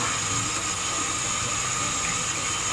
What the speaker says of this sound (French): Ouvrez un tout petit peu l'eau de robinet, vous n'avez pas besoin de faire de grands jets pour gaspiller l'eau.